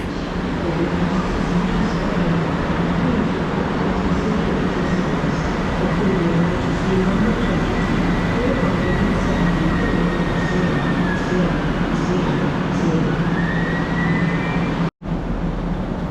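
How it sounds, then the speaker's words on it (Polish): The Kasztelan passenger train, running as a double unit, pulls into the station with a loud steady rolling rumble, faint squealing wheels and a high whine rising near the end, then a brief dropout. "Wjeżdża skład ze stacji Chrubieszów Miasto, pociąg Kasztelan"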